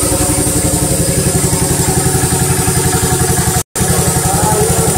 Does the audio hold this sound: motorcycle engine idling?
yes